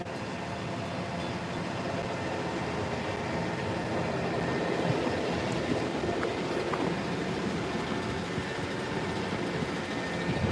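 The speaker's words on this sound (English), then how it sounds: "There's another train coming now." A Long Island Rail Road train on the Port Washington branch rolls past a station in Douglaston-Little Neck, Queens, a sustained rumble of wheels and cars at moderate distance with faint clicks and squeaks.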